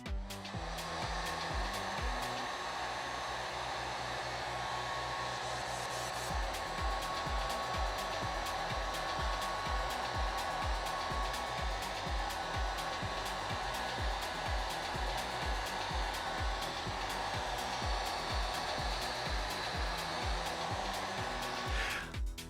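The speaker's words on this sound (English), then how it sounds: "we need to use a heat gun to soften the adhesive material holding the display to the watch" A heat gun blows steadily on an Apple Watch display to soften its adhesive, a constant close whirring hum with a rapid regular pulsing throughout.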